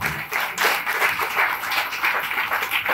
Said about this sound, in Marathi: नक्कीच यांच्यासाठी टाळ्या व्हायलाच पाहिजे।